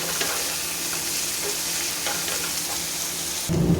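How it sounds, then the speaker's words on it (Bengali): Onions and a small whole head of garlic fry in a pan with a continuous close sizzle and occasional stirring scrapes, no talking, before the sound shifts abruptly near the end. "পেঁয়াজটা দেখুন হালকা ভাজা ভাজা হয়ে আসছে"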